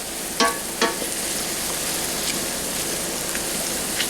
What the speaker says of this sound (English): by the time this is done sauteing